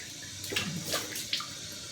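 Cold water runs from a tap during a shave, a steady close splashing stream with a few soft splashes on top, and no voices.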